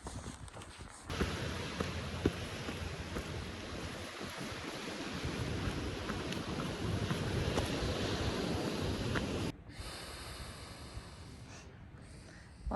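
Ocean surf near a backpacking campsite gives a broad, continuous roar of waves and wind, steady for several seconds before dropping off abruptly.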